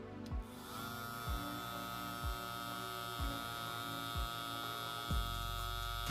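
A Bill Pro BL 600 hair clipper's high-speed rotary motor hums steadily and close, with faint periodic clicks as the speed setting is changed.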